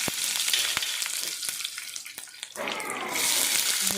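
Capsicum fries in a pan with a steady hissing sizzle that surges loudly as the pieces hit the hot oil, close and continuous with brief stirring clatter.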